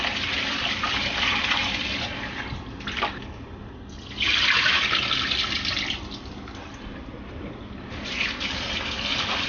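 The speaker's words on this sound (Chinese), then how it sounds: "然后再接上一些清水，把它洗一洗，" Tap water runs steadily into a bowl of shredded salted celtuce as it is rinsed, a close, continuous rushing splash that swells and shifts in pitch as the flow changes.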